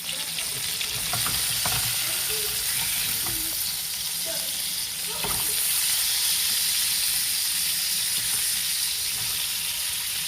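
Home fries potatoes fry in a pan with a steady, loud sizzle and crackle, with occasional stirring scrapes and clicks and no talk.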